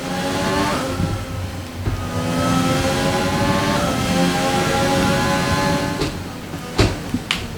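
A Formula 1 race car engine in the F1 2020 game, a loud, steady high-pitched whine holding near and constant, with shifting pitch and a few sharp clicks and thumps near the end.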